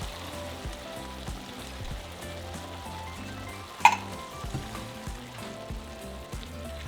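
Ground meat for tacos dorados sizzles steadily in a pan over low heat as tomato sauce is poured in, a soft crackling fry with one brief sharp clink partway through.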